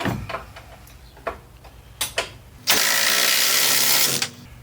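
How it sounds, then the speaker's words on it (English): An impact wrench drives the rear suspension bushing bolts on a 1993 Chevrolet S10 pickup in one loud, sustained rattling burst near the end. A few sharp metallic clanks come before it, and nobody speaks. "I'm going to go and throw the rattle gun on it."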